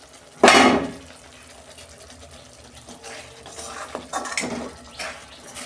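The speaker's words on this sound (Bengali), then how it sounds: "দেখুন বন্ধুরা, ঢাকনা খুলছি।" A metal lid lifted off a pan of simmering fish curry on a low gas flame gives one sharp clatter, followed by a soft bubbling hiss and a few faint clinks at close range.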